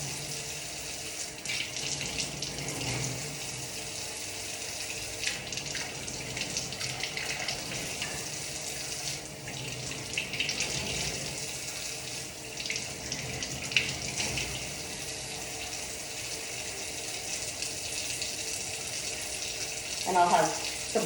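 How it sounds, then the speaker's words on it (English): Water runs steadily from a tap for the whole stretch as arms are rinsed during surgical scrubbing before sterile gowning, a constant hiss at moderate level with faint movement and occasional small knocks. "I rinse upwards like that, and don't go back across yourself"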